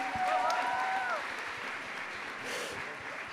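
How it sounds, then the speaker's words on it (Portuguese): Live talk show audience in Portuguese applauding a guest named Thaísa: steady, full clapping from a crowd throughout, loud at the start and easing slightly, with a few faint voices mixed in. "Vamos dar uma salva de palmas para a Thaísa."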